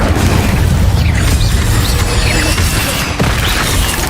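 In a Hogwarts Legacy battle, an Incendio fire spell erupts in a loud, dense roaring burst layered with crackles and whooshes. The heavy blast continues without pause for the whole stretch.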